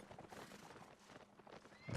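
Horse hooves clip-clopping in the Mount & Blade: Warband video game, faint irregular footfalls under low background noise, ending in a louder thud.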